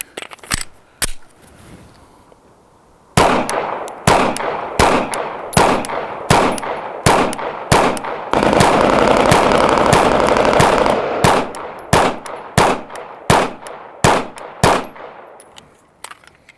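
A Canik Prime pistol fires Blazer brass ammunition in a long string of loud, close, sharp gunshots. Some shots come singly and others in rapid bursts, with a steady rushing noise under the middle stretch.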